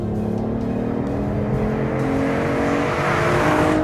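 A BMW i8 hybrid sports car in sport mode pulls hard under full throttle, its engine note holding loud and steady and climbing gradually in pitch through the run, with no voices.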